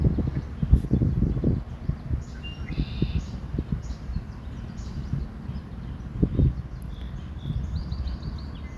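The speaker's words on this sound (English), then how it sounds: "There are so many bird sounds on this trail." Several birds chirp and call along a wooded hiking trail, faint high twitters scattered over rustling and soft footsteps, with no one speaking.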